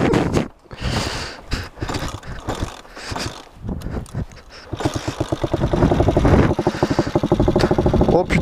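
A 125cc motorcycle engine cranks and catches after a fall, settling into a close, rapid, steady putter, with sputters and handling noise beforehand.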